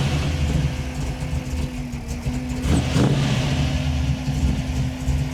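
A Chevrolet C10 pickup truck engine rumbles steadily at idle after starting, deep and close, with a brief rev swelling in the middle before settling back to a low growl.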